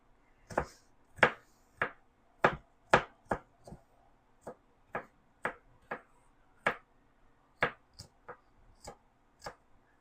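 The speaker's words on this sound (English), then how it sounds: "I don't do as wonderful a job of chopping when I'm filming" A knife chops food on a board in a steady series of crisp, close thuds, roughly two per second, with nothing else heard.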